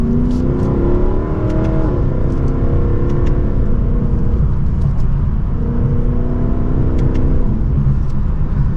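A 2024 Lexus LC500 accelerates hard from second gear, its engine rising in pitch with a drop at the gear change before it climbs again, loud and steady throughout with no talking.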